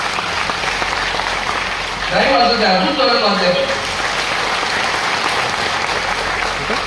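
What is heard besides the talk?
applause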